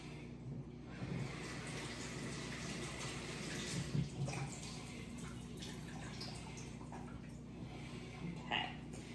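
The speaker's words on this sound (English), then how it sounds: "Let me wash my hands really fast." Tap water runs steadily in a home kitchen sink while hands are washed, a continuous splashing wash with small drips and clinks, close by and moderately quiet.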